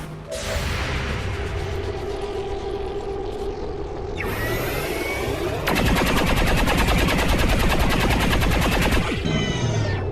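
Loud, sustained gunfire from soldiers in the XCOM 2 video game, with bursts of rapid automatic fire and whooshing mechanical sounds filling several seconds.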